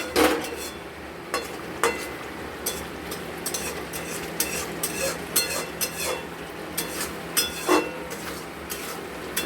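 A spoon stirs cooked-down spice paste in oil in a pan while making potol posto, giving repeated scraping clinks against the metal over a soft, steady sizzle.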